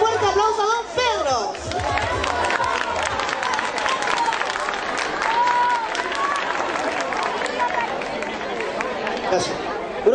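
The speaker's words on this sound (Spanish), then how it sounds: "Lo recibimos entonces con un muy fuerte aplauso a don Pedro." A crowd at an evening television event in Lota, Chile applauds with dense, sustained clapping, mixed with chatter and murmuring voices throughout.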